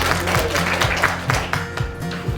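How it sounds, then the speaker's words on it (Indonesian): Classroom students clap together in a short burst, scattered hand claps over a steady hum, fairly close and moderately loud. "tepuk tangan dulu untuk"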